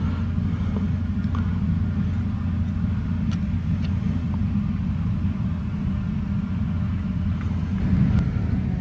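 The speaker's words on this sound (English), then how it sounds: "the grass is being cut and the field's being done next door as well." A lawn mower cuts grass next door, heard as a steady, continuous low engine drone at moderate distance with faint scattered clicks above it and no talking.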